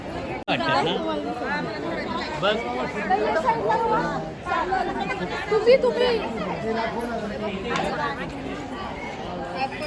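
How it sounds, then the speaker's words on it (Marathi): A dense crowd at the Akkalkot Swami Samarth temple fills the air with continuous overlapping chatter, many voices close and far mixed into a steady babble. "गर्दी बघा आता लास्ट मध्ये तारीख आहे तर गर्दी खूप आहे चांगली"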